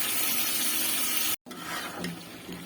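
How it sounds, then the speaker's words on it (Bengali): Water pours into a cooking pot of bitter gourd and potatoes, a brief rushing splash after a short gap, close and fairly quiet. "করলা আলুটা কষানো শেষ, এখন দিয়ে দিব পানি।"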